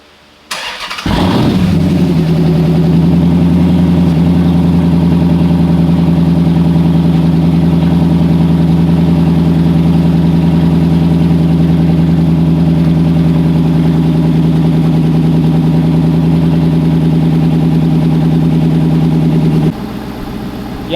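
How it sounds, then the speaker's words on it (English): A car that has not run in two years cranks and catches, then settles into a loud, steady idle that holds evenly for nearly twenty seconds before the engine note drops near the end; no one speaks. "Running like a brand new car."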